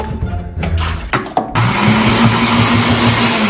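A kitchen blender whirs to life after a few clunks and handling knocks, settling into a loud, steady motor roar with a constant hum while blending a coffee drink in a bedroom.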